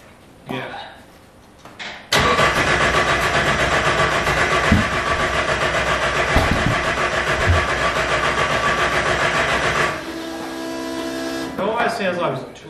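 A Datsun 1600 engine cranks and catches, then runs at a rough steady idle with a few sharp pops back through the exhaust before cutting off; voices murmur at either end.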